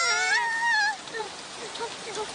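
Cartoon rain hisses steadily from dark storm clouds over a jungle, a continuous soft wash that carries on beneath a voice speaking at the start.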